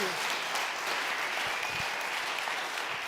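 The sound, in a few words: audience applause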